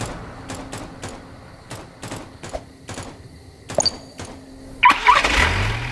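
Vehicle engine starting in the Anomic video game: a run of sharp, evenly spaced clicks, then the engine catches with a loud, broad roar in the final second.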